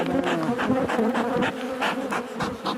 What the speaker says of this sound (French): C'est les butineuses qui sont sorties.